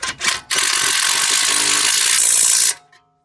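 A car jack is cranked back up during a BMW caster bush install, a brief ratcheting start followed by a couple of seconds of steady dense mechanical whirring close by that stops abruptly.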